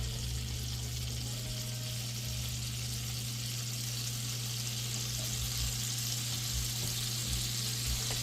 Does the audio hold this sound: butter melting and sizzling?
yes